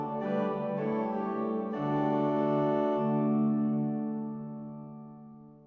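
A Hauptwerk virtual pipe organ plays a sustained chord passage, its four reverb microphone perspectives blended into one spacious mix, full and steady before a long reverberant fade.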